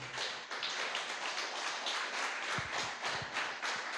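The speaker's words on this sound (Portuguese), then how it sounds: "Se quiser, pode aplaudir ao Senhor" Applause from a congregation at an evening church service, a dense, continuous patter of many hands clapping at moderate distance, steady throughout with a few louder thumps near the end.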